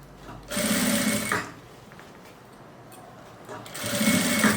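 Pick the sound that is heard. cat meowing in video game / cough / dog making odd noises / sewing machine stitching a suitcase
sewing machine stitching a suitcase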